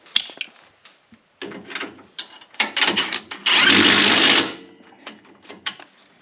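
Power tool tightening a bolt on the rear axle of a 2025 RZR 800 S, one loud buzzing burst of about a second amid close clanks and handling noises.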